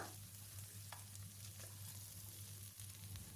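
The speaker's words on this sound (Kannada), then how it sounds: "ಸೋರೆಕಾಯಿನ ಒಂದು ಅರ್ಧ ನಿಮಿಷ ಫ್ರೈ ಮಾಡ್ಕೊಬೇಕು." Cut bottle gourd pieces sizzle steadily while frying in a pan for temple-style sambar, with a continuous close crackle broken by a few scraping stirs, a low steady hum underneath and no one talking.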